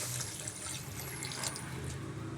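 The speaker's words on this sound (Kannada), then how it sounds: "ಈಗ ಇಲ್ಲಿಗೆ ಸ್ವಲ್ಪ ನೀರು ಸೇರಿಸ್ಕೊಳ್ತಾ ಇದ್ದೀನಿ ನಾನು" Water poured into a pot of bisibele bath during home cooking, a steady close splashing pour that runs continuously through the whole short moment with no voices.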